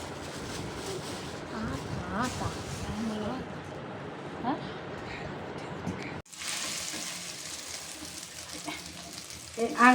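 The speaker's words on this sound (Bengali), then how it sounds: "তাই রাত্রে এই যে ডিম ভাজা করলাম" Eggs sizzling in a pan under a person's talking, with a dense continuous hiss that shifts in tone partway through.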